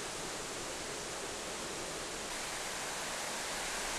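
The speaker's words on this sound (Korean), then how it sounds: "산에 오른 지 10여 분이 지나자 폭포 물소리가 요란하다." A mountain waterfall roars steadily beside a forest valley trail at Daedunsan's Surak Valley, a dense, unbroken rush of falling water filling the scene at close range with no voices.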